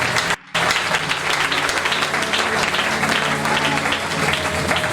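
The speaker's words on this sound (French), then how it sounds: "Acclame d'abord pour toi-même." A church congregation applauds during a worship service. Dense, loud clapping fills the room throughout after a brief break at the start, with a voice faintly audible underneath.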